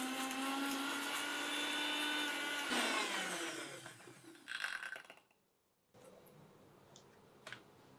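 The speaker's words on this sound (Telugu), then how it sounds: "కలబంద మిక్సీ చేద్దాము" A mixer grinder blends aloe vera into juice, a loud, steady, close whir that runs for several seconds, winds down and stops, followed by faint clicks and handling sounds.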